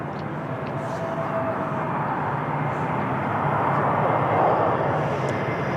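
A LOT Polish Airlines airliner descends on the glide slope into Lisbon, a steady engine rumble with a thin whine that swells slightly toward the end as it passes fairly close.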